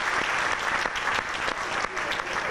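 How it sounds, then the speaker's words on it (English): Applause from the audience at a live event, a short burst of many people clapping, steady and fairly close, with a few voices mixed in. "Another round of applause."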